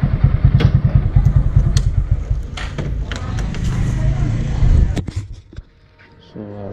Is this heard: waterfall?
no